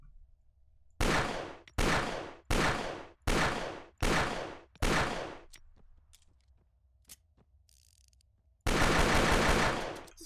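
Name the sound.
Colt Lawman Mark III .357 revolver firing, ArmA 3 Unsung Vietnam mod video game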